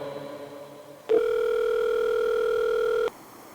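A telephone tone sounds while a call is placed, a steady electronic tone holding for about two seconds after a brief quiet lead-in, then stopping abruptly.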